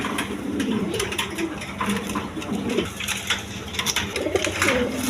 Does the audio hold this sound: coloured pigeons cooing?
yes